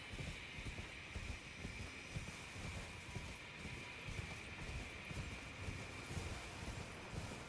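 Torrent the horse from Elden Ring, steady galloping hoofbeats in a fast rhythm over a constant windy rush, fairly close and alone without talk.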